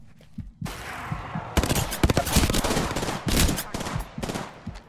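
Rapid bursts of close, loud automatic gunfire from a weapon in the battle royale game Apex Legends, crackling almost continuously with short gaps and a brief quiet start before the shooting.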